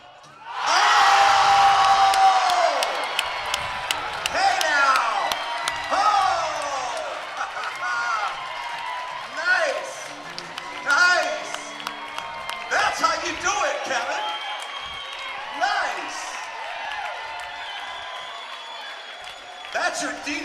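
At a men's college basketball game a gym crowd whoops and cheers for a shooter, loud at first then fading into scattered shouts and murmurs, with an announcer's voice over it.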